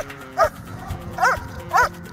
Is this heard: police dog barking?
yes